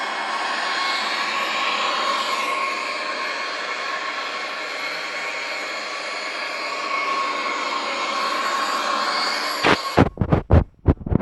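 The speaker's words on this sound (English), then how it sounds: "We are approaching with the Boeing 737-800." A Boeing 737-800 in El Al livery roars with a steady jet-engine drone on a landing approach in the X-Plane flight simulator, then cuts off into a few abrupt clicks at the end.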